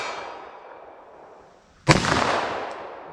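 A revolver fires a single 10mm hand-loaded round, one sharp loud crack followed by a decaying echo after a quiet lead-in.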